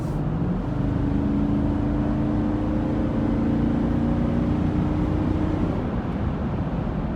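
A 2018/19 Toyota Sequoia Platinum accelerates to pass at highway speed, its engine droning and rising steadily under constant road and wind roar heard from inside the cabin.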